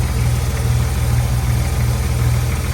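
A 1965 Ford Falcon with a five-speed gearbox idles smoothly, its engine giving a loud, even, low rumble that holds steady throughout with no voices.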